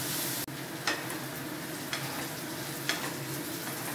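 A pan of macaroni frying for a quick breakfast gives a constant close sizzle, cut by a brief clatter near the start and then a few spaced pops and spits.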